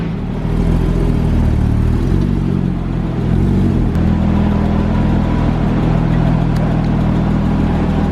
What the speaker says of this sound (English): I think this is almost injector noise. This is normal.